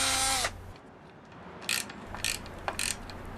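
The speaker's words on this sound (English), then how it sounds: "and drilling the final hole" A power drill finishing the last hole size in a cap for a custom rear bike light: one loud whirring burst fades out, followed by several brief grinding bursts and clicks of the bit, close up and without speech.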